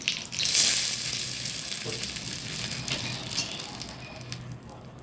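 Mustard seeds and urad dal tempering in hot oil for a spicy chutney give a steady, close frying sizzle with a bright hiss. The hiss swells early on and then eases off, with no talking.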